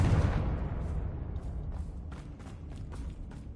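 In Hogwarts Legacy, a Confringo blasting spell explodes with a heavy low thump up front, then a crackling rumble trailing off with scattered small pops and debris.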